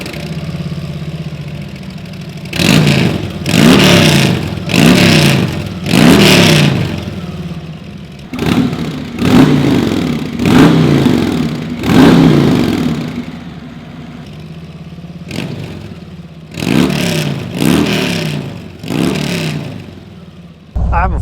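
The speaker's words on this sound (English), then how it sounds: "now that the exhaust is installed, we can listen to it" A Harley-Davidson Touring motorcycle fitted with a Vance and Hines Eliminator 400 exhaust, loud and close, revs in repeated bursts separated by lumpy idle, rising and falling in groups of throttle blips.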